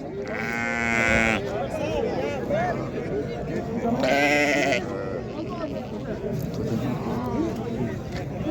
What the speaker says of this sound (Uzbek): Qo'zilar mana 10 qo'y 10 qo'z yosh qo'ylar.